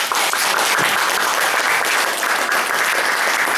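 Audience applause at a jazz trumpet concert as the teacher walks onstage: steady, dense clapping from a crowd, sustained evenly throughout without talk.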